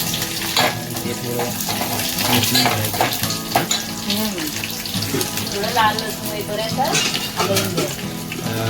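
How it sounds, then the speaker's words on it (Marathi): Garlic and curry leaves crackling in hot oil for a Konkani-style prawn curry, a loud, dense close-up sizzle with pan scraping and talk running underneath. "तेल तापल्यानंतर मी लसूण टाकली त्याच्यानंतर कढीपत्ता"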